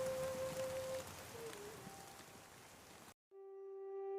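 Steady rain hisses on a surface for about three seconds, with a faint tone over it, then cuts off into a brief musical chord.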